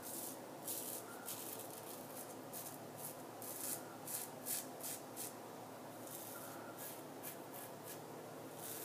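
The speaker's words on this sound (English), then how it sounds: "You really hear that R41 whacking through the whiskers there." An aggressive R41 safety razor scrapes through whisker stubble in close, crisp, rhythmic strokes over a soft continuous hiss.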